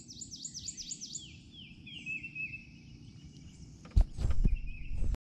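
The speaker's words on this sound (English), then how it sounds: "You can hear the birds chirping" Bird calls in a swamp at sunrise: a rapid run of rising whistles followed by a descending trill, clear against low background noise, then nearby rustling footsteps at the end.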